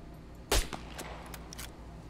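Gunshots from a weapon in the survival game SCUM: one sharp, fairly loud shot followed by a few fainter, quicker reports, with no voices.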